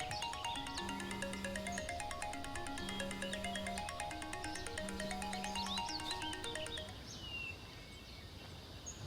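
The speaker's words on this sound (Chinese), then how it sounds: "那个周总，我接个电话啊。" A phone ringtone plays a repeating electronic melody several times, then cuts off, leaving quiet room tone.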